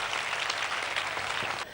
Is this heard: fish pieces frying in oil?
no